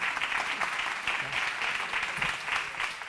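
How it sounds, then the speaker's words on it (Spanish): Audience applause at the close of a presentation session, a steady, moderately quiet patter of many hands clapping throughout, with no talk over it. "aplaudir, que se lo han merecido"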